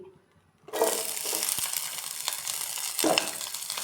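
Onion and garlic dropped into hot oil in a pan burst into a loud, close sizzle after a brief quiet start, with a clatter partway through and a fresh surge near the end.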